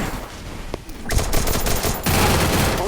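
Rapid gunfire bursts crackle and rattle in the Free Fire battle royale game, dense automatic volleys from close range that rise in intensity toward the end.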